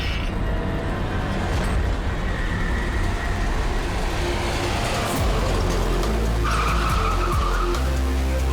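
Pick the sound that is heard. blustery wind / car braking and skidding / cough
car braking and skidding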